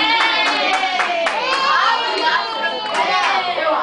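Guests at a Brazilian bridal shower party clap in quick, uneven bursts, close and lively, while excited voices, including children, chatter and shout over the applause.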